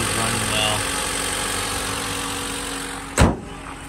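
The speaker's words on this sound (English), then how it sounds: "Motor sounds good, running well." A 2017 Mitsubishi Outlander SE idles with a steady, even engine hum that fills the clip, and a single dull thump lands near the end.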